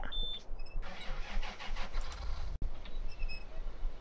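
A tractor engine starts up in Farming Simulator 2013 and settles into a steady, close mechanical rumble for about four seconds, with a brief cut partway through.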